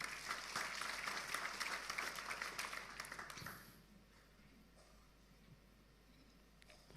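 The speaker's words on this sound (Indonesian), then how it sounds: "Anda boleh tepuk tangan ini." A crowd claps loudly for about three and a half seconds, then the applause stops abruptly and the room falls quiet.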